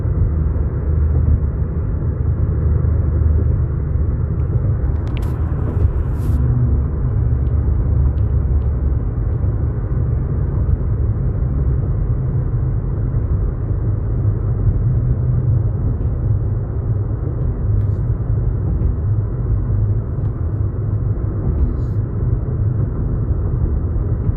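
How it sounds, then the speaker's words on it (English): A car's engine rumbles steadily from inside the cabin while it drives, a constant low drone with no voices. "I'm trying to drive and do this video at the same time"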